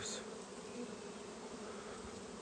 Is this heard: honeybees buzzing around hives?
yes